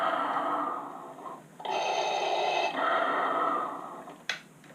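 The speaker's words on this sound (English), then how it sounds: "It has the iconic Darth Vader breathing." Darth Vader helmet from Hasbro with built-in sound effects produces a steady mechanical breathing cycle, a long hissing inhale and exhale repeated at close range, with no talking.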